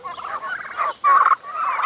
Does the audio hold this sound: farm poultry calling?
yes